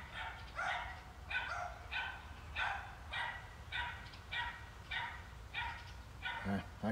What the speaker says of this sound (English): Sounds like the neighbor dogs are barking.